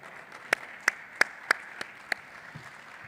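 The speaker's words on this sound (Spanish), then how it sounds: "les pido un aplauso para ellos dos" A small audience at a panel event claps briefly, about six sharp, spaced hand claps ringing out fairly close over a quiet room before fading away.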